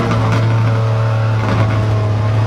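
A RUF CTR Yellowbird engine in a racing video game drones loud and steady at high revs, holding a strong constant tone with slight wavering throughout.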